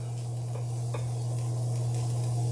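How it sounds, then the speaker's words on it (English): Big chunks of onion, garlic and ginger land in a hot pan for a spicy pork rice bowl, with a steady close sizzle and a few soft thuds and stirring scrapes over a constant low hum. "Big chunks of onion that I'm going to throw inside of there"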